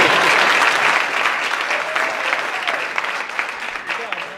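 An audience at a school gathering claps steadily, loudest at the start and tapering slightly over the seconds, with some voices mixed under the clapping.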